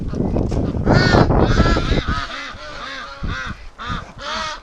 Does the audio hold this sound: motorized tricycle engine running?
no